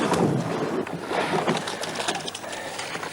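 A rowing boat being rowed on open water, likely a competitive shell, with continuous splashing and rushing water and wind noise close to the microphone, steady throughout without speech.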